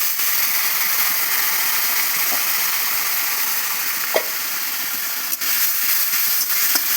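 Spiced curry base of cumin, chilli, sugar and ginger sizzling steadily in a pan with a splash of water for cabbage fritter curry, a continuous close hiss with a few faint stirring clicks and scrapes.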